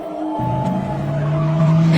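A car pulls up and comes to a stop on a deserted forest road, its engine note steady and close with a faint tyre sound. A steady low hum continues to the end.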